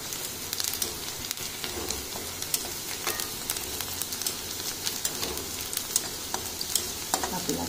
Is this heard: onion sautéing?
yes